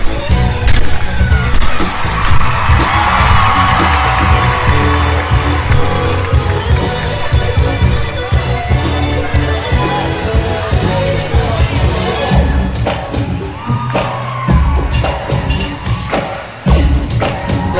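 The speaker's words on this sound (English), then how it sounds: "crowd goes wild for that opening double layout" An arena crowd roars and cheers during a themed gymnastics floor routine, loud sustained noise with thumping music and sharp bangs underneath.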